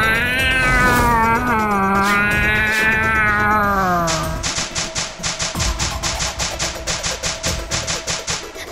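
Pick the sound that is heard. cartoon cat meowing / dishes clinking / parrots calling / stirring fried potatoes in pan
cartoon cat meowing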